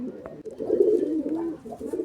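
Low, soft cooing of pigeons close by, a throaty rolling murmur rising and falling over about two seconds.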